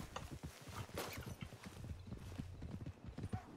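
Horse hooves clop steadily on the ground in the western roleplay game Red Dead Redemption (RedM), a quick, continuous rhythm of hoofbeats heard fairly faint and alone.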